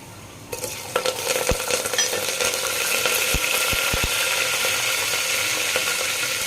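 Mustard seeds, chopped onion and curry leaves fry in hot oil in a pot, a dense continuous sizzle with a few sharp pops and clicks of seeds and utensil near the start.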